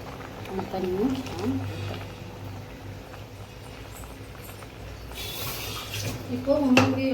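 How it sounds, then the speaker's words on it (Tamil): Water sloshes and runs while a mixer jar that held ground coconut, fennel and pepper paste is rinsed during crab gravy cooking, a soft watery churn under a person talking, with a brief splash near the end. "மிக்ஸி ஜார் கழுவி தண்ணியும்"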